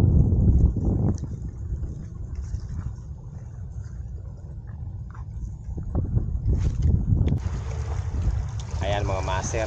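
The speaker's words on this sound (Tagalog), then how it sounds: "Malakas ang hangin" Steady, strong wind roars and buffets against the microphone on the way to a lighthouse at Baseco, a continuous low rumble throughout with a few brief knocks and a faint voice near the end.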